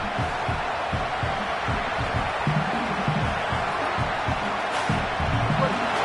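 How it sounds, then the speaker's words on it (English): Stadium crowd at a football game roaring as the home defense keeps the opponent pinned deep: a dense, steady wall of crowd noise, loud and sustained throughout, with a commentator talking faintly beneath. "The roar of the crowd trying to fuel this defense to keep them pinned in their own end"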